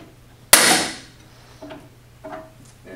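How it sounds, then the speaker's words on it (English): Metal tubing with Tylok fittings and Swagelok ferrules bursts loudly in a hydrostatic pressure burst test, one sharp bang with a decaying hiss, followed by a few faint clanks. "we'll find the weakest point in the system and that tubing will blow out"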